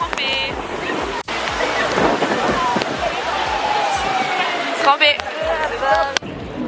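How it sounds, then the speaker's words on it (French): Heavy rain in a storm at the GP Explorer racing circuit roars as a steady, loud wash of noise with wind buffeting the microphone, while a person speaks over it. "là il recommence à pleuvoir"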